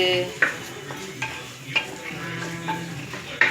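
A spicy fish dish sautés in a pan with a low, steady sizzle, punctuated by scattered clinks and scrapes of a spoon against the pan, heard up close with no talking.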